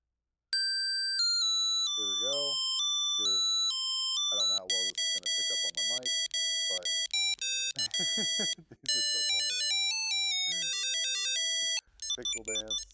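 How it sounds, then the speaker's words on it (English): A series of different electronic ringtones from an Ekster tracker card play one after another, bright beeping melodies and chimes, loud and clear with short gaps between them. "You can see we have a bunch of different ringtones."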